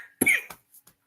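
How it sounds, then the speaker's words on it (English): A single close cough during a live show, a harsh burst followed by a couple of short softer throat sounds, with silence around it. "I'm coughing."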